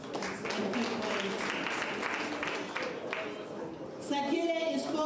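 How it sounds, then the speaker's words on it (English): An audience at a teachers' excellence awards ceremony claps hands, producing a steady patter of applause from many people, while a voice speaks over it and a brighter tone enters near the end. "Let us clap hands and keep quiet."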